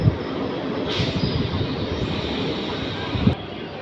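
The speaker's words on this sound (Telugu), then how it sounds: "మెదపాడు నుండి అయితే మన ట్రైన్ అయితే బయలుదేరిపోయింది." The Kakinada Port to Vijayawada MEMU express pulls away in early morning, a loud steady rumble of rolling wheels and carriages heard from on board, with brief clanks near the start and end.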